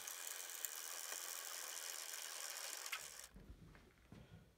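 A woodworking thickness planer's adjustment crank is turned by hand, giving a steady ratcheting, gear-driven rattle that runs alone for about three seconds, then stops and leaves quieter low clunks.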